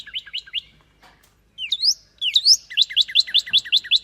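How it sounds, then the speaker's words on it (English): A Northern cardinal chirps in a tree: clear, sharp repeated whistled notes, first a short burst, then rising slurred calls and a steady rapid series, close and alone against quiet. "I told you there's a bird that keep on coming to my trees."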